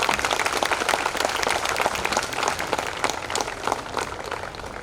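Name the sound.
applause for students' performances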